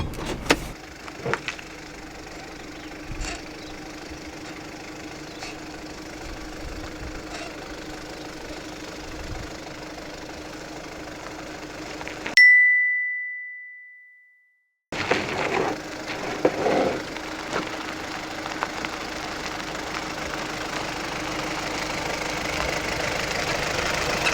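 Wooden body of a camper van creaks and splinters as it flexes while driving over rough ground, engine rumbling beneath; the sound cuts out briefly midway, then resumes with steady creaks and knocks.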